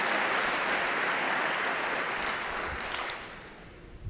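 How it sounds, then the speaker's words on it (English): Audience applause at a school district State of Schools event, a dense, steady wash of clapping from a crowd that holds for several seconds, then thins and fades toward the end. "I think we need to applaud that."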